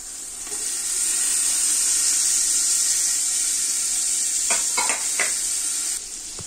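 Pepper is stirred into onions frying in a pan for spinach soup, giving a loud, steady sizzle with a few brief scraping stirs near the end.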